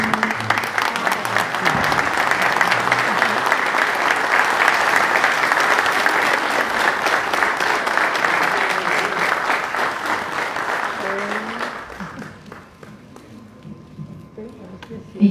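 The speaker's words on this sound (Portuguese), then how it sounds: "em pé, saúdem os novos companheiros por um forte aplauso" A Lions Club gathering stands and applauds new members, sustained dense clapping from a large crowd that holds steady for about twelve seconds before fading away, with faint voices underneath.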